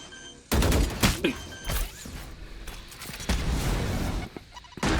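Gunfire in the video game Valorant: several sharp, loud bursts of shots cracking in quick succession over game ambience.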